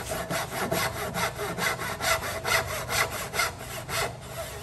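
Hand saw cutting slowly and carefully through wood to form a dovetail joint, steady back-and-forth rasping strokes, about nine even passes, close and clear with no talking.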